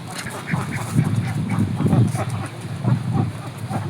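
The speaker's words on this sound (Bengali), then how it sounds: "হাঁসের পাক পাক শব্দ আমার কাছে খুব ভালো লাগে।" Ducks quacking and honking in a steady, busy chorus on a quiet village morning, several birds calling close by with overlapping squawks throughout.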